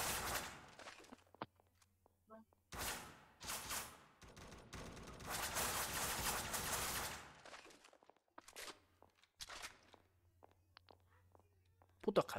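Bursts of gunfire in the Roblox game SCP Roleplay, rapid volleys in several separate clusters, with quieter gaps of ambient hum and scattered clicks between them.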